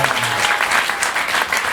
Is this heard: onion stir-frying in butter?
no